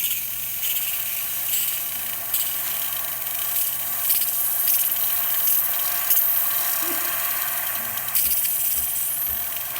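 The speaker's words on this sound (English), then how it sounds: "It's going to purge water first," A Breville XL espresso machine steam wand purges water with a steady hissing spray and a low mechanical hum underneath, continuous and fairly loud, with occasional small sputters.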